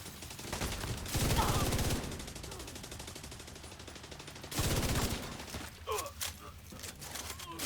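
Rapid automatic gunfire from a video game weapon rattles out in two sustained bursts, loud and close, with scattered impact sounds after the second burst.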